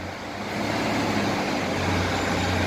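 A class 156 diesel unit on an East Midlands Railway service at Beeston station fires up its engine: a low, steady rumble that swells after half a second and then holds at a loud idle.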